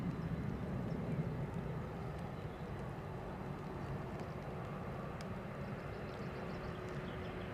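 A Lufthansa airliner passes with a steady, low broadband rumble that fades slightly after the first second and then holds evenly, moderately distant and alone.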